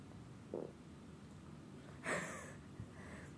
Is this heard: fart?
yes